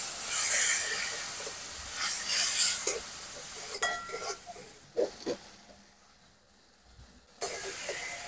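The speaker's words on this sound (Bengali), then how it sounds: "এবার মশলা খুব ভালো করে কষিয়ে নেব।" Spices with salt and turmeric sautéing in a pan, a loud sizzling hiss that fades in bursts with a few clinks of stirring, then stops and briefly returns.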